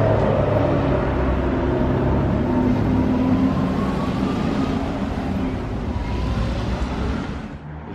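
A Ferrari SF90 accelerates past with a loud, sustained engine roar and a rising pitch, rumbling close by for several seconds before fading slightly at the end.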